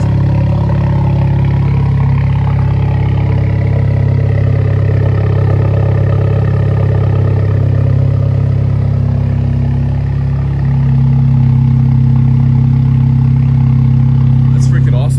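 Alfa Romeo Giulia engine fitted with a Monza exhaust upgrade, a steady deep idling rumble that drops lower in pitch partway through, heard close and continuous while people talk over it.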